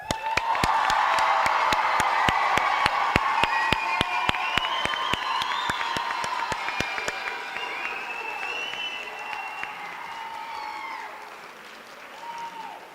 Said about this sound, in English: please join me in one more round of applause as we congratulate our winner 2024 grads